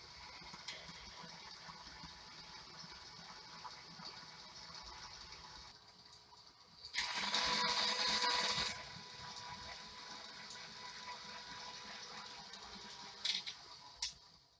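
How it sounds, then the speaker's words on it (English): A stand mixer whirs steadily as it mixes pavlova ingredients, with a louder, brighter burst of whirring partway through and a few brief clatters near the end. "And just put on my stand mixer"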